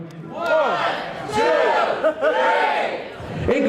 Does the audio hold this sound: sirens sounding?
no